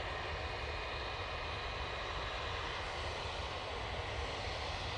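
A Boeing 737 MAX jet lines up for takeoff at Manchester Airport, its engines giving off a steady, fairly distant broadband roar that holds evenly throughout with no voices.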